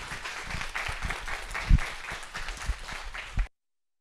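An audience applauds to welcome lecturer Julia Fish at the start of her talk: steady, dense clapping from a modest crowd that lasts about three and a half seconds and then stops abruptly.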